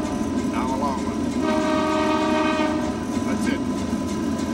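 A long, loud train whistle blast sounds from the cab of a rolling Canadian passenger train over its steady rumble, holding for several seconds.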